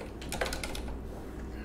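Brief burst of rapid keystrokes on a computer keyboard, close and clear, followed by a quiet pause.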